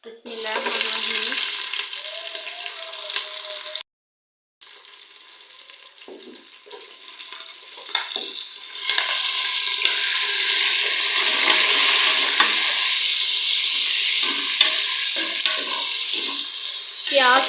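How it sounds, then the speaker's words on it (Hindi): A large onion fries in ghee with spices in a pot, with soft stirring clatter early on, then a brief gap, then a fuller, louder sizzle that swells and holds steady. "प्याज का हम लोग हल्का सा गोल्डन कलर आने तक इसे फ्राई करेंगे"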